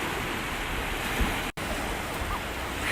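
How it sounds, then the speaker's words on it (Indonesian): Big sea waves break on a shore in Japan, a steady broad roar of surf filling the whole stretch, close and loud, with a brief dropout midway. "Tapi kan serem tuh liatin ombaknya gede banget."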